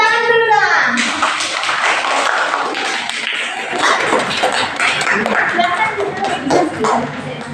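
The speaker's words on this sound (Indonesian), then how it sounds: "Kasih tepuk tangan dulu dong." A classroom of students claps during a practice-teaching lesson, the clapping running for several seconds amid children's voices and chatter, with a tonal chime sounding briefly at the start.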